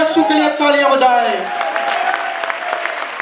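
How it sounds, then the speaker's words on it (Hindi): Revival-meeting congregation clapping for Jesus, broadband applause rising under a preacher's voice that dominates the first half and then fades, leaving steady clapping with scattered sharp claps. "जो चाहता है वो खड़ा हो जाए और मेरे यीशु के लिए तालियां बजाए"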